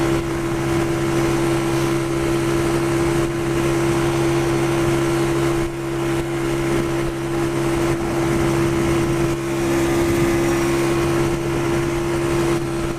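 A Pioneer Torro XF125S 125cc motorcycle engine runs at a steady, loud, buzzy drone close by, holding a constant hum with slight wavering and no speech over it.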